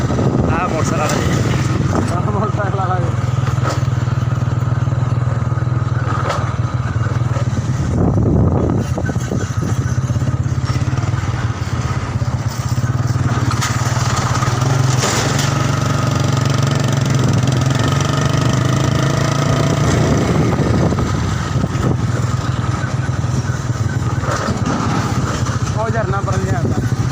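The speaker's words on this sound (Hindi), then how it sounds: "हाँ मोटरसाइकिल" A motorcycle engine idles steadily at a canal junction where several channels meet, a low continuous rumble running throughout with people talking over it.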